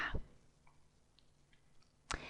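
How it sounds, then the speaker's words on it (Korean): Two quiet, sharp right-clicks of a computer mouse, one at the start and one near the end, separated by near silence. "마우스 오른쪽 버튼 눌러서 수락하겠습니다."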